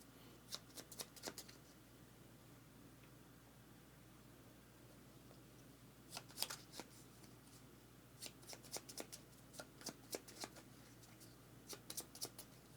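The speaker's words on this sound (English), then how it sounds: "All right, so those are shuffled." A deck of cards for the board game Ground Floor Second Edition is shuffled in faint, crisp riffling bursts separated by pauses, heard quietly over a steady background hiss with no speech.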